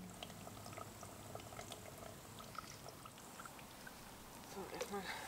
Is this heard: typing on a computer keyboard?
no